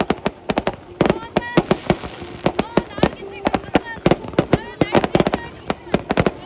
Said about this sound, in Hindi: बहुत कमाल की आतिशबाजी